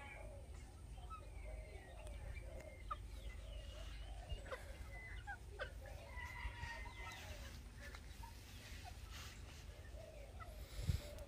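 Several Polish chickens clucking and calling at close range, with steady farmyard background noise throughout and a brief louder sound near the end.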